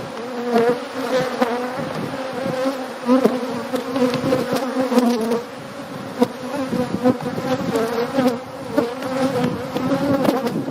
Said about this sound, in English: So you see they are a little active because all the bees were almost inside